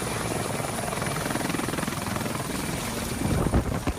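Helicopter flying near the Iowa State Fair, a loud continuous rotor chop with a steady pulsing beat and engine whine, close and constant, swelling slightly near the end.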